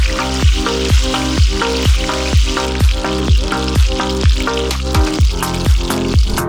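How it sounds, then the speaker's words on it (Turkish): Steady sizzling of chicken chops frying in a pan, with a soft regular thumping pulse repeating throughout, no voices. "Önce pirzolaları tavada tek başına pişir, pirzolaları kızarttıktan sonra her şey çok hızlı gelişecek."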